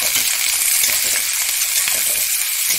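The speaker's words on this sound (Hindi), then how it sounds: "इसको 5 मिनट तक सुनहरा होने तक भूनेंगे।" Onions frying in a pan with garlic, ginger and green chilies, a steady, loud, dense sizzle with faint crackles throughout and no voices.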